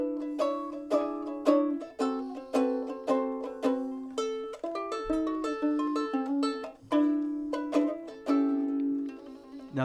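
An advanced blues turnaround is plucked on a ukulele, with clear close single notes and chords ringing out in a steady sequence, played alone without talk.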